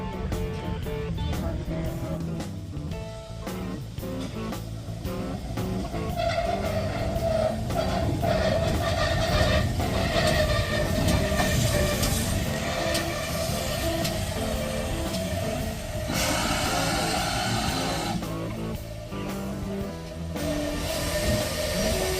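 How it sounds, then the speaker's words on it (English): A steam train, its engine running backwards pulling the carriages, rumbles and clatters steadily as it approaches in Somerset, with rhythmic knocking and a fluctuating mechanical drone lasting throughout. "Oh, the engine's coming backwards. It's pulling the train."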